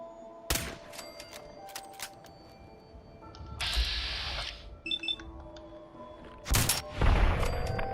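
Gunfire in a Fallout 4 VATS sequence, with sharp, loud shots spaced through the clip, a burst of noisy mechanical clatter in the middle, and metallic beeps and clicks between them.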